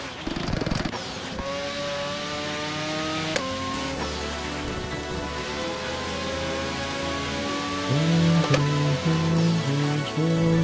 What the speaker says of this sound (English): Car sounds amazing.